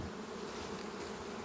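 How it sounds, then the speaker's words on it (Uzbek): Honeybees fly around the hive entrance in a dense, continuous buzzing drone, close and steady, with no voices. "Asalariimizda hozir oblyot qilyapti"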